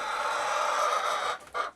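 Ornamental chickens, including a Blue Americano rooster, make a short burst of clucking from birds housed in partitioned cages, one sustained call followed by a brief second note.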